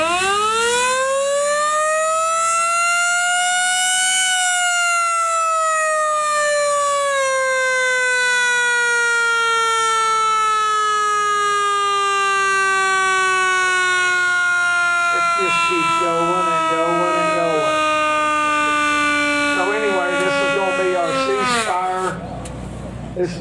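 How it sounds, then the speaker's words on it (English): A civil defense style siren used as a ceasefire signal at a safety meeting wails loudly and alone, rising then slowly falling in a long sustained tone that cuts off near the end. "When you hear this siren, it's going to mean ceasefire."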